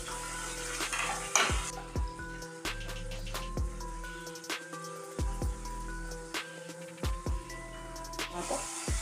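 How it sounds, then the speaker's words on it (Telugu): Ginger garlic paste frying and stirred in a pan while making kakarakaya pulusu with curry leaves, crackling and spitting steadily with scattered sharp pops and scraping ladle knocks, close and moderately quiet, no talk. "అల్లం వెల్లుల్లి పేస్ట్ వేసుకొని కలుపుకోవాలి."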